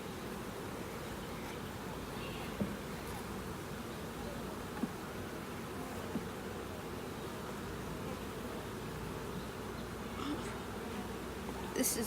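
Honeybees hum in a steady, low drone throughout a large hive inspection, a continuous close swarm buzz with faint handling knocks and no talk.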